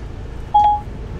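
A Mercedes E300 Coupe's car phone gives a single short dialing beep, clear and electronic, over a low steady cabin hum.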